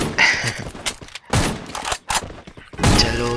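Rapid bursts of gunfire ring out in the mobile shooter Free Fire, with several sharp volleys separated by short gaps, loud and close.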